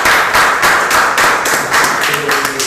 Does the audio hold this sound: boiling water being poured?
no